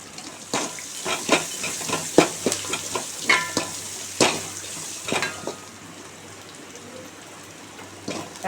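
Crackling sizzle of garlic and shallots frying in oil, with irregular popping spatters and clicks of stirring, close and fairly loud.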